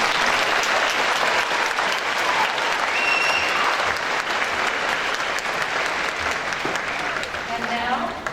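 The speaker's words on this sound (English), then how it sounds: "give them a round of applause" Hearty applause fills a hall at a college convocation ceremony, dense and continuous for several seconds, with faint crowd murmur and a brief voice underneath.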